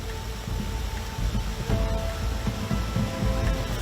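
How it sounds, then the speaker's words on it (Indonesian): A fairly strong waterfall rushes in a dense, steady roar of churning water, heard close and continuous throughout. "Beberapa kali kami melintasi air terjun yang cukup deras"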